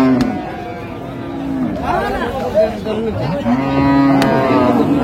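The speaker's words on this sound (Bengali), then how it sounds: "দেখছি একটু গরুগুলা।" Cattle low repeatedly at a busy livestock market in Ranigonj, Dinajpur, with several long moos overlapping steady crowd chatter and nearby voices.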